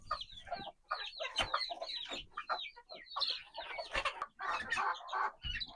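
Backyard chickens cluck and chatter at feeding time in a busy, overlapping flurry of short calls, close and fairly loud, with no talking.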